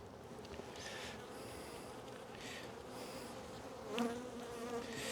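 Honey bees from a strong hive buzz throughout a spring hive inspection on a warm day, a faint, continuous droning hum with a brief louder swell near the end.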